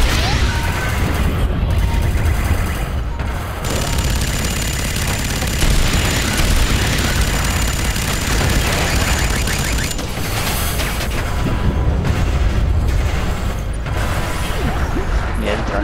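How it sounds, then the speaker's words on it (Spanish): Rocket launches and explosions in the F.E.A.R. 3 video game, bridge level: loud, dense combat din of blasts, crashes and rapid gunfire running nearly the whole time, with brief lulls around the middle and near the end. "Le doy a la G y lanzo cohetes."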